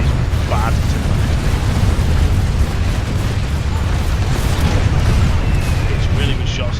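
Shells exploding close to the player in Planetside 2, a dense, continuous roar of rumbling blasts and bursts that stays loud throughout with no clear gaps.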